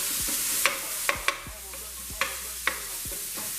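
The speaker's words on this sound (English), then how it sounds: "Alright, chorizo in the pan on medium high." Chorizo frying in a pan over medium-high heat, a steady broadband sizzle running throughout with several sharp scraping clicks and thuds from stirring spaced irregularly across it, close and fairly loud, with no talking.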